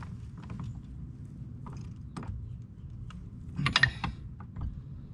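A wrench tightening crush nuts, with faint metallic creaks and ratcheting clicks scattered over a low background rumble and a sharper cluster of clicks near the end.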